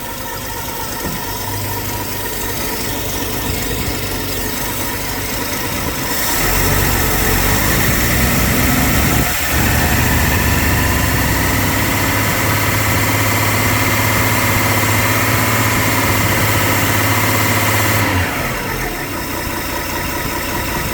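A 1953 Ford 4x4 truck engine idles, then is revved up and held at a higher, louder steady pitch for several seconds before dropping back to idle.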